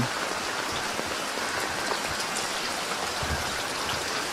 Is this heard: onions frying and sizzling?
no